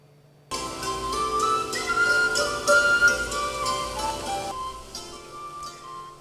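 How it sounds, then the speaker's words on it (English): Traditional Irish music rings out at a shopping mall on St. Patrick's Day, with bright tin whistle melody on top of fiddle, guitar, harmonica and drums, playing continuously and fairly loud after a quiet start. "A group of musicians playing the fiddle, guitar, tin whistles, harmonica, and drums set up at the mall yesterday."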